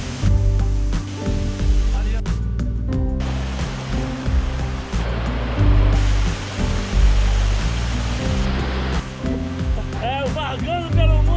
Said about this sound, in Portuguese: Cachoeira da Santa, vale chegar junto.